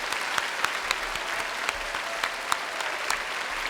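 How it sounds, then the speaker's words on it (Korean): A church congregation claps steadily for the choir, individual claps distinct and close, a moderate round of applause with no voices over it. "성가대 박수."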